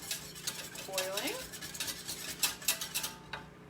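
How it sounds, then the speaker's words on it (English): A whisk scrapes and clinks rapidly against a pot of gravy being brought to a boil in a home kitchen, a steady close metallic stirring rhythm with faint sizzling beneath. "let's give that a little whisk and let it hang until it's boiling"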